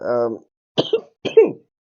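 After a brief hum-like vocal sound, a person nearby gives two sharp, separate coughs or throat clears in quick succession, each a short harsh burst followed by silence.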